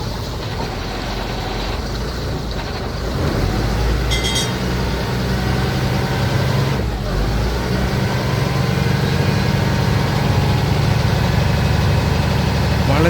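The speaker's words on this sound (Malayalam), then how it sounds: "ഭയങ്കര സ്പീഡിലാണ് ആ ബോട്ട്" A fast passenger boat on the Kuttanad backwaters approaches with a steady engine drone, a low continuous rumble that grows slightly louder and holds through to the end.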